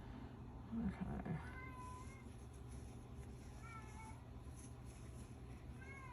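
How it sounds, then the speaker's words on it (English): A cat meows repeatedly in rising and falling cries, some nearer and some farther off, with a low voice briefly murmuring early on. "God, that cat's so obnoxious."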